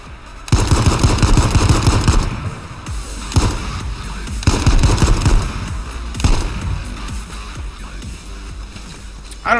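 Loud bursts of automatic gunfire from a video game rattle in rapid volleys, with a couple of brief pauses between the long streams of shots.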